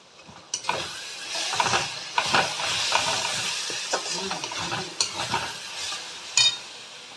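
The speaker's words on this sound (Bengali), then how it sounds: "এবার এটা কষিয়ে নেব।" Mutton sautéing in a pan with Kashmiri chili, turmeric, onion, garam masala and kasuri methi, a continuous close sizzle and hiss broken by repeated spatula scrapes and clinks.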